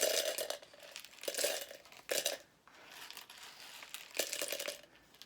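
Loose plastic buttons being dumped out and sorted by hand, producing bursts of clattering, rattling clicks in several separate handfuls with quiet gaps between them.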